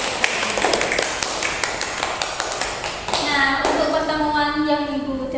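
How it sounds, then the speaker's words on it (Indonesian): Students in a classroom clap together in a burst of close, brisk applause for a few seconds, and then children's voices and a sustained tone carry on after it. "Beri aplaus yang meriah"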